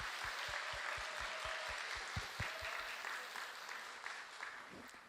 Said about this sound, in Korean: 우리 격려와 응원과 축복의 박수를 보내주시기 바랍니다